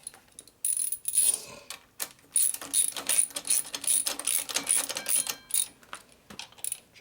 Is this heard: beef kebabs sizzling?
no